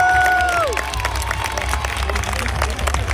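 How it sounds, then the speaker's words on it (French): An audience at a knights' tournament at the Baillée-des-Filles in Les Ponts-de-Cé bursts into dense, steady applause and cheering, a broad crowd roar that carries on throughout, with a voice briefly heard at the start. "Voilà qui est bon, on peut les applaudir."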